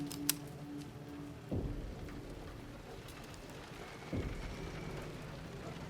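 Steady rain in the video game Silent Hill 2 hisses and patters as a constant backdrop, with two dull rumbling thuds like distant thunder breaking through the downpour.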